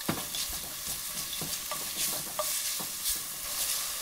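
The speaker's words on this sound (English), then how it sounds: "in goes 1 red onion finely minced and just allow it to saute" Finely minced red onion sautéing in a pot, a steady close sizzle and frying hiss broken by soft stirring scrapes and occasional spoon taps, with no voices.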